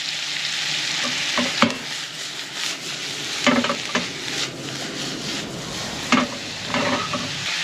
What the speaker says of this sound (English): Sweat down some mushrooms, some onion.